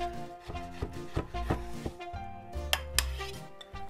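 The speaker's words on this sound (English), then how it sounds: "I've got a jar of artichoke hearts here, and I'm just going to chop these things" Artichoke hearts from a jar are chopped on a board, making a run of close, irregular knife taps and clinks, some sharper than others, with no talk.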